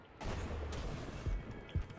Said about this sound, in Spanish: Voy a disparar todas las balas